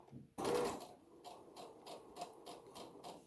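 Back-stitching a dress seam on a sewing machine gives a short clack, then a quiet series of evenly spaced mechanical ticks and clicks.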